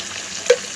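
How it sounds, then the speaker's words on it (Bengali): Shrimp with ginger-garlic paste, turmeric and chili powder fries in a pan, a brief close sizzle with a single sharp scrape or clink midway. "এসব দিয়ে আমি চিংড়ি মাছগুলোকে ভালো করে প্রথমে ভুনা ভুনা করে দিব।"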